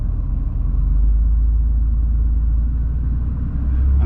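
A classic Porsche engine rumbles steadily from inside the cabin, a deep, loud low drone that holds even with only slight easing and swelling as the accelerator is feathered.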